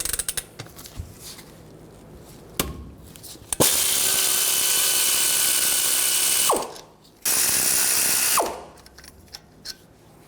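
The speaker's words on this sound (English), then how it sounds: "Take these two caliper bolts out. Use a 16mm socket." A ratchet with a 16mm socket backs out the brake caliper bolts on a 2011-2016 Ford F350 Super Duty. It sounds as a few sharp clicks and clanks, then long, loud, fast ratcheting runs broken by brief pauses.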